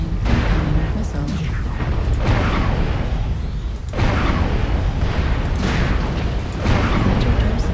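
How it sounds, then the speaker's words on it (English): Missiles slam home in MechWarrior Online in a dense barrage of heavy, booming explosions, with deep blasts rolling on almost without a break, closely overlapping one another. "Warning, incoming missile."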